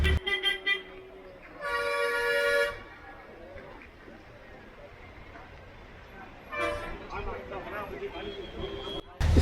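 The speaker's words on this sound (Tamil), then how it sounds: "இங்கே இன்னும் டிராஃபிக் கிளியர் ஆகவே இல்லை, இன்னும் டிராஃபிக்காகவே தான் இருக்குது." Vehicle horns toot repeatedly in slow-moving traffic on a crowded hill-station road in Tamil Nadu, with a long sustained honk near the start, shorter blasts later, and a steady rumble of engines and street noise underneath.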